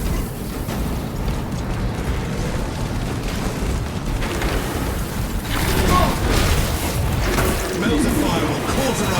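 Heavy, continuous rumbling blasts and mechanical roar from melter charges in Warhammer 40,000: Space Marine 2, booming across the whole stretch and swelling louder toward the end, with battle noise layered throughout.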